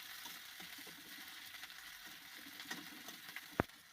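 Sliced onions frying in a pan for a stuffed eggplant and bean dish give a quiet, steady sizzle with soft crackles, joined near the end by a single sharp click of a utensil.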